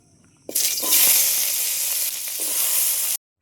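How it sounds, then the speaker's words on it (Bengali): Garlic cloves dropped into hot oil burst into a loud, bright sizzle that holds steady for a few seconds, then cuts off abruptly; no speech. "তেলটা গরম হয়ে গেছে এখন রসুনগুলো দিয়ে দেবো"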